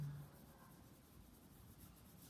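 Soft, steady scratching of a single pencil shading across paper while sketching a human figure, close and quiet with a continuous rubbing texture and no talk.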